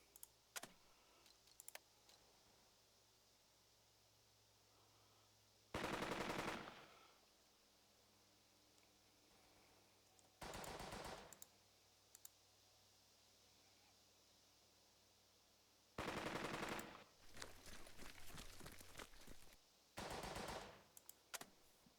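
Machine gun fire in the WWII strategy game Burden of Command: several loud bursts of rapid automatic fire separated by quieter stretches of low ambient battlefield hum.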